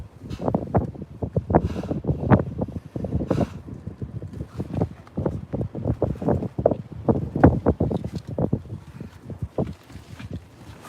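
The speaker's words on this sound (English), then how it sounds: "The wind is a little bit crazy." Strong outdoor wind batters the microphone in rapid irregular gusts and thumps, loud and close, with only faint background behind the buffeting.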